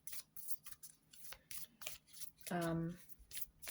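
Tarot cards being shuffled by hand, a series of quick papery riffles and slaps in irregular bursts, close and quiet, with a brief voiced sound cutting in near the end.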